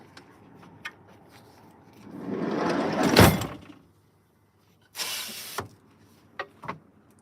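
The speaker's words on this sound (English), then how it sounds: "Let me close the door." A door is closed with a rising sliding, scraping rush that peaks in a soft thud, followed by a bright whooshing burst and a few light clicks in a quiet room.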